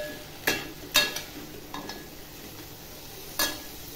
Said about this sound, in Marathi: टोमॅटो टाकल्यावरही छान असं परतून घ्यायचं।